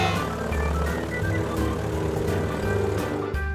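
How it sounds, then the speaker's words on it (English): A biplane's propeller engine drones steadily and loudly at close range, a continuous throbbing roar with no pauses and no voices. "So this, Zoomies, is a biplane"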